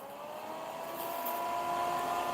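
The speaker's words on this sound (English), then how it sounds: "So this is the sound of the dust collector." A nail dust collector runs throughout, a steady motorized whir with faint tonal hum lines, fairly loud and unbroken, with no voices.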